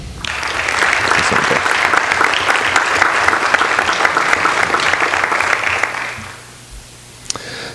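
Loud, dense applause from the audience at a high school board meeting honoring students, steady for about six seconds before quickly dying away to near quiet.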